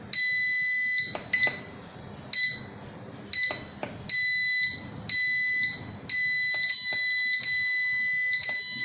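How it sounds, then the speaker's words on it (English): A digital calendar clock alarm beeps in a high, piercing tone, in bursts that merge into continuous ringing, with faint background noise between. "Type 8 is a continuous ringing."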